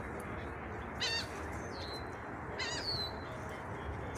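A seagull calls as it flies over a park, two short harsh cries about two seconds apart, fairly clear above steady outdoor background noise.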